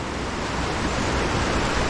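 Swift mountain stream water rushing steadily past rocks near Gatlinburg, a loud, continuous broadband roar filling the whole stretch without pause or talk.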